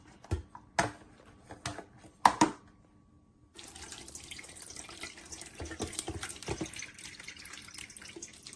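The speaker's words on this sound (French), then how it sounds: "J'ai mon râpé d'ananas ici, auquel je vais ajouter juste un peu d'eau. Et je vais le tamiser ici directement." Grated pineapple mixed with a little water is pressed through a sieve, giving a few soft knocks and clinks followed by a steady trickle and splash of juice running into a bowl, fairly quiet and close.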